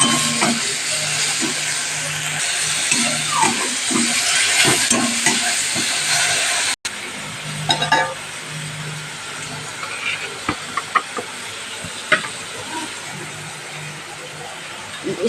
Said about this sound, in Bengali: নুন হলুদ দিয়ে দিলাম মশলাটা কষাচ্ছে আস্তে আস্তে